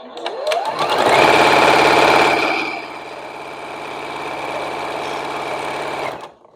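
Close and loud, a sewing machine stitches a strip onto a quilt block, revving up quickly, then settling into a steady whirring run for several seconds before stopping.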